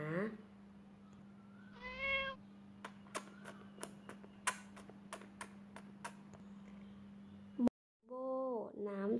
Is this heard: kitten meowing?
yes